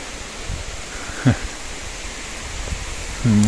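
Strong wind roars steadily through a forest in bad weather, a broad continuous rush close around, with a couple of brief knocks and a short burst of voice near the end.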